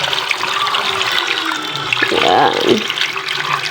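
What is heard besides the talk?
water being poured into a pot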